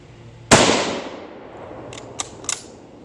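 A single loud, sharp Mosin Nagant rifle shot cracks out and rings into a decaying echo, followed by a few faint metallic clicks of the bolt.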